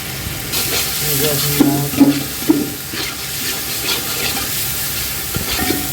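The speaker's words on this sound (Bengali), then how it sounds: "মশলাটা ভালোভাবে কষিয়ে নেওয়া হবে মশলা কষানো হয়ে গেছে" Spice masala of salt, turmeric, chili, cumin and coriander powders being stirred and fried in a home cooking pan, with a steady sizzle and a few sharp scraping knocks near the middle.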